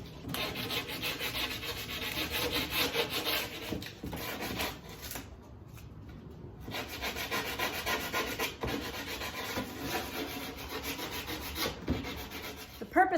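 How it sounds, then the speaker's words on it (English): Hand sanding the rough edges of a wooden fairy house base with an 80 grit sanding block, close, rhythmic back-and-forth scratchy rubbing strokes with a brief pause midway before the strokes resume. "Sanding block with 80 grit paper."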